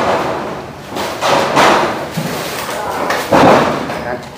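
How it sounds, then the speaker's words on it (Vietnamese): Hammer blows ring out while ceiling panels are fixed in place in a newly built house, a handful of irregular thumps with voices talking around them. "Đây anh Hải đang đóng la phong, màu la phong đẹp quá anh Hải"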